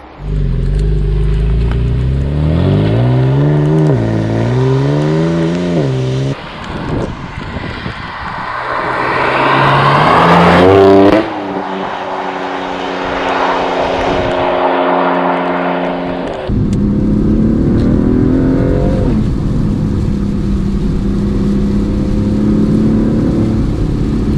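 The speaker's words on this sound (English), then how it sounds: "it's not the ideal day to be driving a 560 horsepower stage 2 boot mode" A BMW F80 M3 with a Bootmod3 stage 2 remap, rated at 560 horsepower, accelerates and revs hard on a wet day, its engine note rising and falling through gears, loud and close, with no talking.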